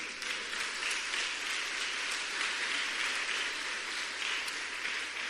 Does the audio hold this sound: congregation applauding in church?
yes